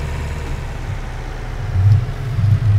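A tractor engine in Farming Simulator 19 rumbles at a low, steady idle, then swells slightly louder as the vehicle is driven toward a shed.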